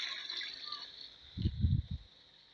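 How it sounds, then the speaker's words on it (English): Water pours into a liquid disinfectant mixture, a soft gurgling splash lasting under a second after a quiet hissy background, fairly close and not loud. "So I'll now finally add my water."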